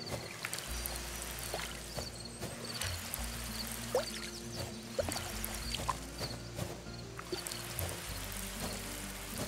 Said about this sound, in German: Gießt man hier nochmal schnell.